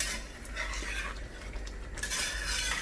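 Spoon stirring chicken Afghani gravy in a pot, soft scraping and clinking against the metal over a low bubbling simmer, close and brief with no talk.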